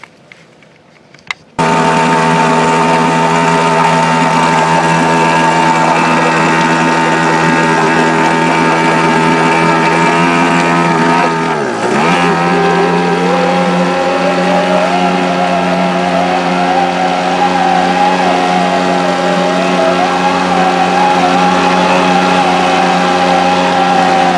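A Hangkai 3.5 hp outboard motor on a Basstender 11.3 boat runs with a loud, steady droning hum after a brief quiet start, its revs dipping once midway before climbing and holding.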